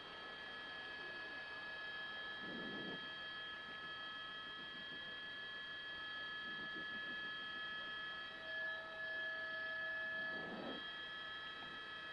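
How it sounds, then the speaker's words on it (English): Train rumbling past near a road during a police pursuit, a faint distant steady drone with tonal hum and periodic swells, heard under low background noise without talk. "The train's there coming."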